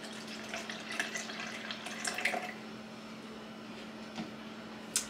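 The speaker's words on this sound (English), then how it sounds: "I'm gonna pour up to the 4 ounce mark of concentrate." Liquid concentrate is poured into a measuring container at home, a soft steady trickle with faint splashes, fairly quiet and close, with no talking.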